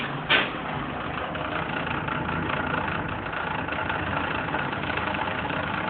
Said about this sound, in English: And as the bulldozer gets closer, the sound gets louder, the rattling gets louder.